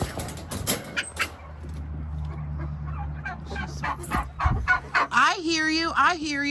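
Turkeys on a family farm gobble in loud, rapid warbling bursts near the end, following clattering movement and a low steady hum, with a dog barking briefly amid the flock.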